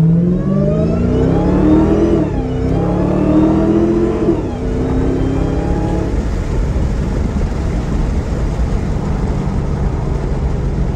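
A 2016 Dodge Challenger Hellcat accelerating hard through Las Vegas, its engine revving with rising pitch sweeps and a brief shift dip, then settling into a steady loud roar of driving.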